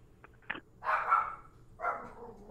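Dogs bark indoors in a short burst of sharp yips and a couple of louder barks, fairly close and clear with no talking over them.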